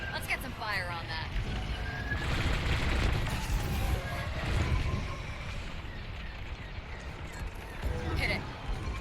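Starfighters trade rapid bursts of laser fire during a space battle in Star Wars: Squadrons, with the shots rattling on under a dense mix of engine noise and voices talking over radio chatter.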